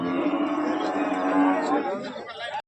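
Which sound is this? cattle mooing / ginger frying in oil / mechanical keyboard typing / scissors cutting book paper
cattle mooing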